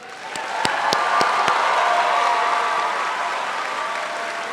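A crowd of family, friends and guests applauds at an Alliance Academy high school graduation ceremony, a steady wash of clapping with a few sharp claps standing out, sustained and fairly loud throughout.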